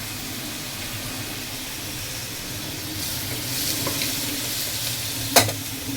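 Onion frying in a pan for a prawn pulao, a steady sizzle with periodic scraping stirs, growing a little busier toward the end with a sharp clink near the close; no talking.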